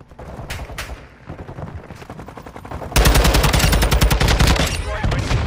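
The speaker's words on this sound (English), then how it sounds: "I got a sniper popping at me still right now" Gunfire in a military shooter video game with sniper fire: a few isolated sharp shots early, then a loud, dense stretch of rapid shots dominating the second half, with faint voices under it.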